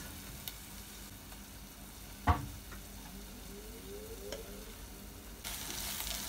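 Ginger and garlic hit sizzling onions in a pan, a steady close frying hiss with one sharp clack of a utensil and light stirring scrapes, no voices.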